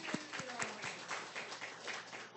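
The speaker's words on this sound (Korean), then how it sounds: "박수." A church congregation applauds during a Wednesday evening worship service, a dense, steady patter of many hands clapping for about two and a half seconds, with a few sharper claps standing out near the start.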